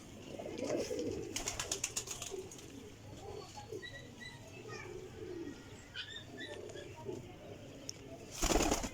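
Several pigeons cooing nearby in soft, repeated murmurs, with some wing flutters and a burst of flapping near the end.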